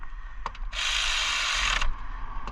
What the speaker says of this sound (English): if you have an electric ratchet or if you have just a regular ratchet, you can go ahead and put them in